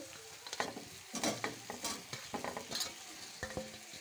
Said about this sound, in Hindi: जो हमने आलू बॉइल किए हुए थे इनको इसमें अच्छे से फ्राई करना है